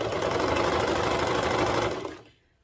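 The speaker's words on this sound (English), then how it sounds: "sewing machine will absolutely get it done" A sewing machine stitching a pair of pants runs at a steady fast whir, loud and close, for about two seconds before stopping abruptly.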